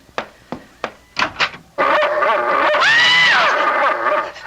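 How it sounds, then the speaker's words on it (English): A big dog in an old-time radio mystery drama: a few thuds and thumps, then a loud sustained growling, snarling vocalization from close by, with no speech over it. "There's a dog on our bed! A horrible big dog!"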